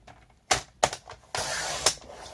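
Sharp snips and crisp rustles of scissors cutting through an A4 paper sheet for a handmade album base, a few quick separate cuts followed by a longer continuous slice, close and fairly quiet.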